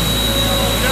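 A 2005 Ingersoll-Rand P185WJD portable air compressor with a John Deere diesel engine drones steadily at close range while building pressure, a loud constant hum with a voice talking over it.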